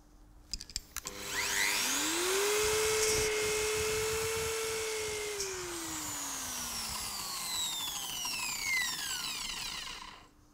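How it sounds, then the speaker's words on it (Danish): A car polishing machine fitted with a wool pad whines up to speed, its motor tone rising steeply then holding a loud, steady high-pitched spin before sagging slightly, with a few clicks as it starts. "det gør man ved lige at sætte den på maskinen, køre maskinen op i hastighed"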